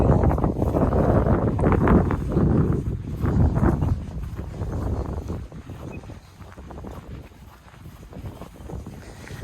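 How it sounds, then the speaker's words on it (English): Strong wind roars across the microphone in heavy gusts, loud at first and then easing to a lower, steady rumble. "it's so windy"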